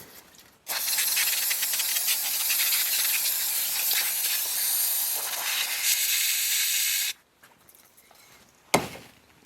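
Carb cleaner sprays onto parts from a 1960 John Deere 1010 engine in a loud, close, continuous hiss lasting about six seconds, then cuts off, followed by quiet handling and one sharp knock.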